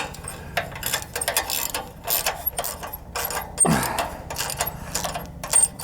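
A hand ratchet clicks in quick bursts while bolts come off the starter of a John Deere 318 garden tractor with a P218 engine, loud and close, with short pauses between strokes.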